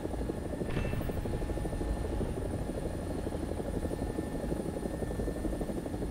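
A Bell 205-style helicopter in a combat video game drones steadily with a continuous rotor and engine whir, close and unbroken throughout, with no talk over it.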